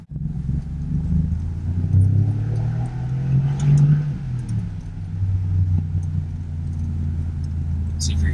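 A Mercedes G-Wagon 4x4 Squared engine rumbles loudly nearby and swells through a couple of revs before settling to a deep idle, with a faint jangle of keys.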